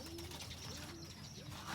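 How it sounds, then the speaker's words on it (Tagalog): Pigeons coo low and steady at a loft during arrival training, a soft repeated murmur over a constant background hiss, with a faint chirp or two mixed in. "Abangan natin kalapatids."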